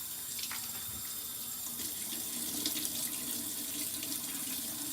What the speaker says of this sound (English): I'm going to start with cold water to the face before I use my turmeric, lemon, ginger, whatever, cleanser for the brightening.